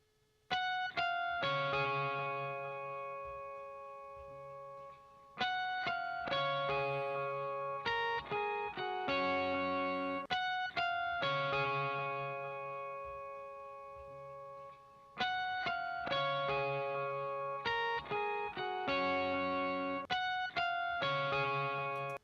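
An electric guitar plays a repeating chord pattern with crisp, sustained notes and no added echo, steady and loud throughout.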